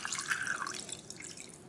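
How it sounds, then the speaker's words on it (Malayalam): Water is poured from close by into a mojito glass holding two ice cubes, for a red wine and butterfly pea mojito. It makes a short, bright trickle and splash lasting under two seconds. "ഇനി കുറച്ച് വെള്ളം ഒഴിക്കാം."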